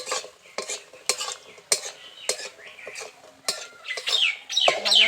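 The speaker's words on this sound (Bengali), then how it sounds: "তো প্রথমে বড়িগুলোকে ভেজে নেব। লাল লাল করে একটু ভালো করে বড়িগুলোকে ভাজতে হবে।" Homemade black gram lentil bori frying in oil in a home kitchen, heard as a near, repeated clatter of a spoon stirring against the pan with a faint sizzle underneath, growing busier toward the end.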